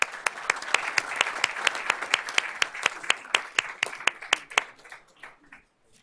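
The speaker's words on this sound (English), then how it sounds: "Let's give all these gentlemen a round of applause." Applause for football players after a South versus North game in a Myrtle Beach stadium, sounding as sharp, evenly spaced claps up close over a soft crowd wash. The clapping slows and fades out near the end.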